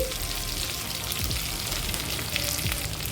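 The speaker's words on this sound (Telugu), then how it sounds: "బీరకాయలని ఇలా ఒకసారి ఆయిల్లో ఇలా కలుపుకొని ఫ్లేమ్ సిమ్లో పెట్టేసుకొని ఒక ఫైవ్ మినిట్స్ కుక్ చేసుకోవాలి" Sliced ridge gourds frying in oil on a low flame, a steady close sizzle and crackle running throughout with soft stirring scrapes now and then.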